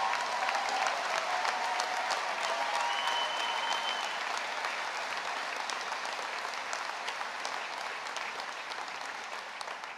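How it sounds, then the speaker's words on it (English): A crowd applauds steadily and enthusiastically for several seconds, the clapping dense and sustained before easing slightly toward the end. "give them a round of applause"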